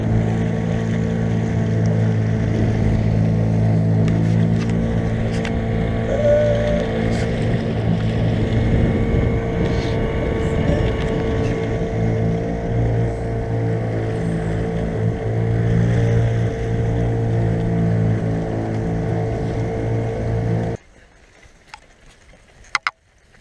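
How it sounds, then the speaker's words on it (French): A small fishing boat motoring across a lagoon gives a steady, loud engine drone with wind buffeting the microphone throughout, then cuts off abruptly near the end, leaving quiet with a couple of faint knocks. "on va traverser comme ça la Laguna avec le petit bateau"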